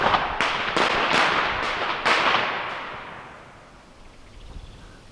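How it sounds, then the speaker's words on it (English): Several sharp New Year firecracker bangs crack in quick succession, loud and close, then fade into a decaying rumble with a faint pop near the end. "firecrackers are going off"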